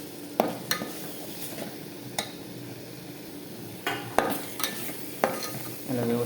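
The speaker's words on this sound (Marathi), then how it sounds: "याला व्यवस्थित आता सर्व मिक्स करून घ्यायचं." A spoon stirs and mixes chicken masala biryani in a pan, with sharp scraping clinks against the metal and soft sizzling beneath, coming in irregular strokes, close by and with no voices.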